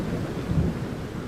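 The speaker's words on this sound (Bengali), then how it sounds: "আকাশ বেশ ঘন কালো মেঘে, শুরু হয় বাতাস আর বৃষ্টি" Stormy night scene in a Bangla cartoon: a steady low rumble of wind and rain, with a swell of thunder near the middle, continuous and fairly loud, no voices.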